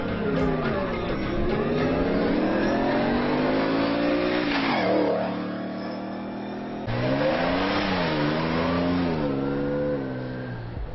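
Jeeps race at the 16th Cholistan desert jeep rally, a loud, continuous engine roar rising and falling in pitch as a vehicle revs and passes close by, with a brief dip before the drone returns.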